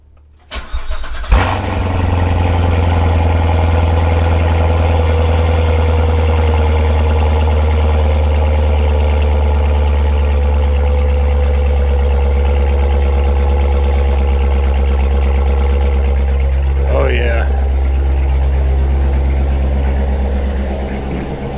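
A Corvette C7 Grand Sport fitted with an AFE Momentum cold air intake cranks and fires up with a sharp burst, then settles into a steady, deep, loud idle that runs on for about twenty seconds, close by and with no speech.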